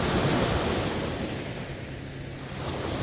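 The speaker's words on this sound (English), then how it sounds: "Today we do have a bit of waves." Small ocean waves washing onto a very shallow sandy beach on Gili Air, a continuous close rushing surf mixed with wind buffeting the microphone.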